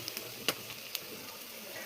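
Onion and curry leaves fry softly in oil, with a faint continuous sizzle broken by a couple of sharp utensil clicks from stirring.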